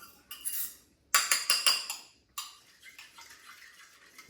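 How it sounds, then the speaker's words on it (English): A spoon clinks against a bowl while spice mixture is stirred into deer bacon meat, making a few short bursts of metallic scraping and clinking separated by quiet gaps, close and fairly faint. "I'm gonna give that just a little more of a stir"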